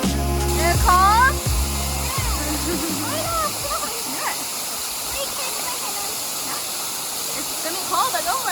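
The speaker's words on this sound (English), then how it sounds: "Oh, it feels so good by the waterfall." Battle Creek Falls in Utah pours in a constant broadband rush of falling water, close and steady, while several voices talk and call out over it, including higher children's voices.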